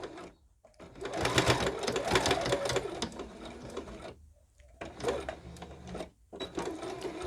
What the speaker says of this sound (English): we're going to just stitch straight across